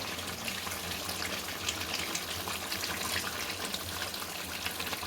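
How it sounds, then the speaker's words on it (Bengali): Heated water pours steadily into a pot of thin chicken curry, a continuous close gushing splash that holds an even level for the whole stretch with no voices. "এবার আমি যে জলটা গরম করে রেখেছিলাম সেই জলটা দিয়ে দিচ্ছি।"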